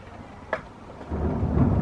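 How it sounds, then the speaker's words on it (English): Rain falls in London as a soft steady patter that grows louder and denser toward the end, with a brief sharp knock near the start. "Wow, it's raining."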